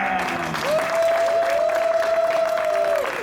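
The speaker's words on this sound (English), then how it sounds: "we pause for applause for Mr." An outdoor Halloween carnival crowd at Disneyland's Big Thunder Ranch applauds and cheers a magician, steady clapping with a long sustained whistle or cheer riding above it.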